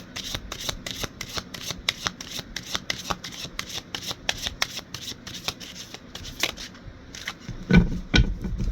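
Tarot cards shuffled by hand, a close, rapid run of crisp riffling flicks and slaps repeating in quick bursts, ending with softer handling.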